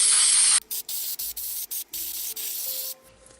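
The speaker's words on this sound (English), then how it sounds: "So let me get this sprayed first." Spray is applied through a stencil onto a glass vase: one long hissing burst, then a rapid series of short, close spray puffs separated by brief gaps.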